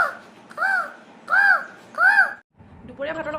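A person imitates a crow's caw with their voice, giving three loud, close, evenly spaced caws, followed briefly by the start of speech.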